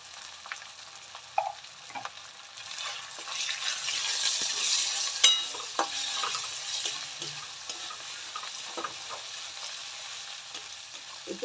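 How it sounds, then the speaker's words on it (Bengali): Cumin, ginger, bay leaf and whole green chili frying in a pan for khichuri, a steady close sizzle with occasional stirring scrapes and small pops, swelling louder midway. "একটু মশলাটাকে ভালো করে ভেজে"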